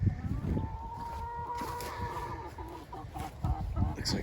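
Chickens from a meat-bird flock cluck repeatedly at close range, with scattered scratching and shuffling sounds and a bit of faint speech mixed in.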